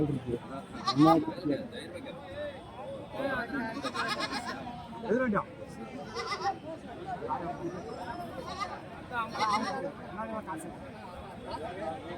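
Goats and kids bleating at the Friday livestock market in Kuntharapalli, Krishnagiri district, with repeated nearby bleats over a busy crowd murmur while someone speaks throughout.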